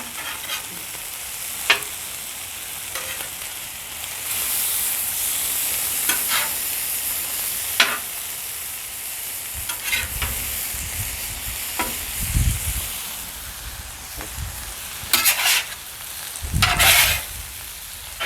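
Chicken and vegetables sizzle steadily on a griddle, with a continuous hiss broken by sharp scrapes and clatters of a spatula as pieces are flipped, plus a few heavier thumps near the end.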